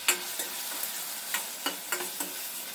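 Salted ingredients for an egg gravy fry in oil in a pan, with a soft, steady sizzle and scattered sharp clicks of a utensil stirring against the pan.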